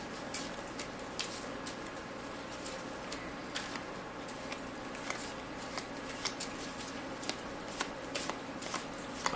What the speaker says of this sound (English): And then I'm going to shuffle.